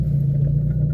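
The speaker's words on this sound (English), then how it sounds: "Now my car is a little loud" Inside a moving car, a loud engine gives a steady deep droning rumble with a strong low hum, unchanging across one brief second with no voices.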